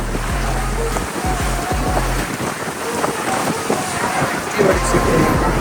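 Heavy wind rumble over a low engine drone and water wash from a ferry on open water in New York City, loud and continuous.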